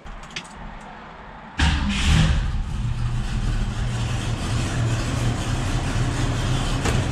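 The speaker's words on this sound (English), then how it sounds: "now the engine's running" A 1967 Ford Mustang engine starts abruptly after a quiet moment, just after a power steering pump replacement, then runs steadily with a loud, even rumble at close range.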